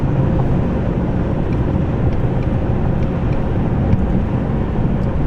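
A Ford Mustang GT350 with a manual gearbox drones loudly and steadily from inside the cabin while the driver skips from fourth to sixth gear, a dense low engine and road roar with wind noise and no speech.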